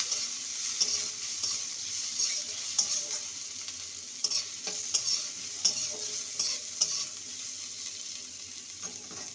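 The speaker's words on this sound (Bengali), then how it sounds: "আদা বাটাটাকে ভালো করে ভেজে নেব।" Ginger paste and chopped medium tomato fry in a pan while being stirred for a Bengali lentil and bottle gourd dish: a steady close sizzle with repeated scraping stirs and light clatters, no voices.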